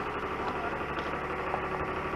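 A small International Cub 154 tractor from the late 1960s or early 1970s, fitted with a front blade, idles at an outdoor auction with a low, steady, fairly quiet engine hum and no talk.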